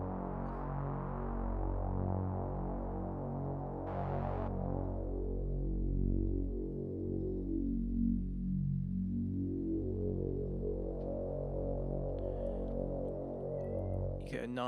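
A sustained, thick synthesizer drone with slightly detuned oscillators, steady and humming, its tone sweeping slowly down and back up.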